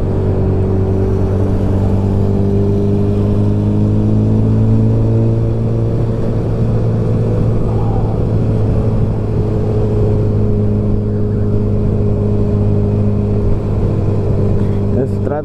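Honda CB1000 motorcycles riding in a group along a potholed road, a steady low engine drone with harmonic hum throughout, wind rumble, and a voice talking over it.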